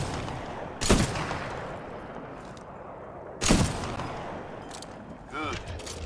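Gunfire in a Titanfall 2 training course: two sharp single shots a few seconds apart over a quiet ambient bed, followed by a softer mechanical rattle near the end.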